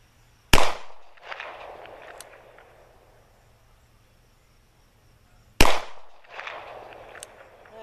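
Two loud, sharp shots from a Taurus 617 revolver fired single action outdoors, spaced about five seconds apart, each followed by a rolling echo and faint rustling in between.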